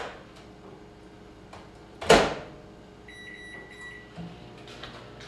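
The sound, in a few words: microwave oven running, melting butter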